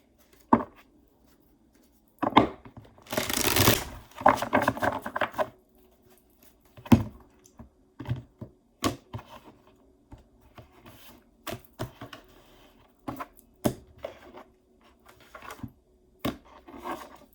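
Tarot cards are handled up close: a few scattered taps, a dense rustling shuffle burst early on, then irregular flicks and clicks, with no talking.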